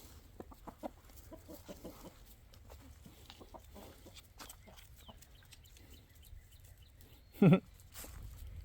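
Faint clucking and scattered rooster sounds in a quiet outdoor setting at an off-grid homestead, with light rustling and a brief louder burst near the end.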